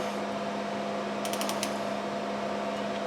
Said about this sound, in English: That's what I've got this torque wrench set to.